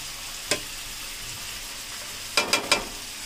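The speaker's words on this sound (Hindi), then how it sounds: "प्याज को हमने पैन में डाल दिया है, अब हम चिकन में जो हमने सूखे मसाले रखे थे ये सारे इसमें हम ऐड कर देंगे" Onions and dry spices frying in a pan for chicken korma, a steady soft sizzle with a single sharp utensil tap early and a quick cluster of three clinks near the end.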